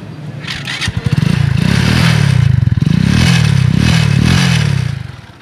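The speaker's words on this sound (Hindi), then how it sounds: "इसका साउंड भी चेक कर सुनाते हैं आपको और सेल्फ भी चेक करते हैं कि इसका सेल्फ क्या सही काम करता है" Power Cheetah 110 motorcycle cranks on its self-starter and catches, then its single-cylinder engine idles loudly and steadily close by with uneven throttle blips, no voices over it.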